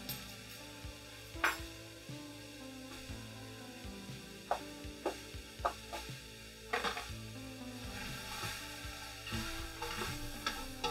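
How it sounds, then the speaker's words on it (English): Butter chicken ingredients sautéing with cumin and salt in an Instant Pot, giving a low steady sizzle, with sharp spoon scrapes and knocks against the metal insert at irregular intervals. "So my plan is to kind of saute this up until I start getting a little bit of color."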